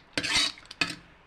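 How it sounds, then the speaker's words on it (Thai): Eggs stir-fried with green shallots in a pan: two short, bright bursts of scraping and sizzling from a spatula stroke, close and fairly quiet, separated by a brief pause. "ผัดไข่นะจ๊ะผัดไข่ ใส่หอมหลายเขียวไปนิดนึง"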